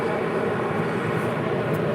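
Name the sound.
747 landing with thrust reversers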